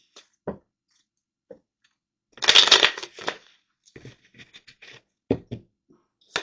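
Tarot cards are shuffled in a quiet room, heard as brief papery riffles and taps with a louder, denser flurry of card noise in the middle.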